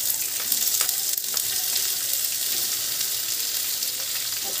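Two large chopped onions and a batch of spices sizzle in a hot pan for an egg curry, a steady close frying hiss with occasional stirring scrapes and no voices.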